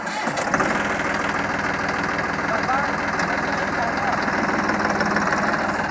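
A Massey Ferguson 9500 Smart tractor runs in first gear with a steady, loud mid-pitched diesel engine drone and a faint knocking pulse throughout, continuous and close.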